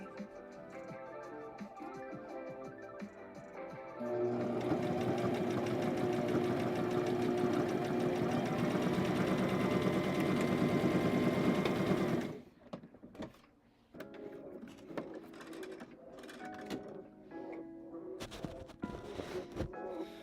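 A sewing machine stitches fabric scrunchies in one loud, steady whirring run of about eight seconds, then stops, followed by quieter intermittent mechanical clicks and handling noises.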